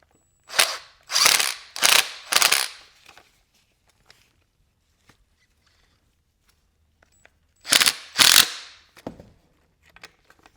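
A hand ratchet tightens a bolt beside a plastic part on a MK6 Volkswagen during EVAP leak repair: a close run of four quick ratcheting strokes, a quiet pause with faint clicks, then three more strokes.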